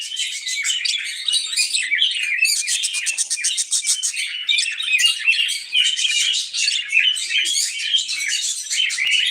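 Many small caged birds chirp and tweet together nonstop, a dense, busy chatter of high calls close by.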